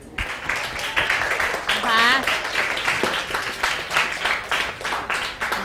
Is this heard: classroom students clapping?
yes